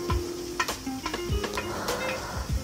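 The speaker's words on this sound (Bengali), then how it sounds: "এবার কিছুক্ষণ মশলাটা নেড়ে চেড়ে নিব" Ground spices (coriander, cumin, chili and turmeric powder) sizzle in a pan for moong dal bhuna while a spatula stirs them, giving repeated close scraping knocks over a steady frying hiss, with no talk.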